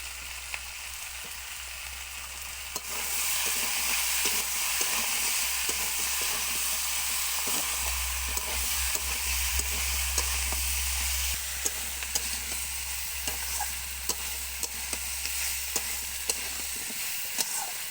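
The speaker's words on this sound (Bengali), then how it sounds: "ঢাকনা খুলে কিছুক্ষণ নাড়াচাড়া করে নেব।" Malabar spinach and pumpkin curry sizzles loudly in an uncovered pan, a continuous frying hiss broken by repeated scraping and clacking strokes as it is stirred, with a low steady hum beneath.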